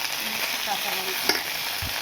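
Cumin, bay leaves and ginger-cumin paste frying in a pan: a dense, steady close sizzle and crackle throughout, with a brief scrape of stirring near the middle and a low knock toward the end, no talking.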